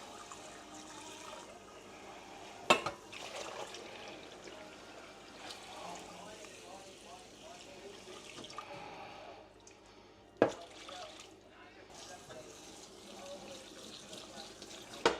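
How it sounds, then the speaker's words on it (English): Cold running tap water splashes steadily into a sink as rice is rinsed, with a couple of sharp clunks of a strainer or pot along the way. "And then rinse it with cold water."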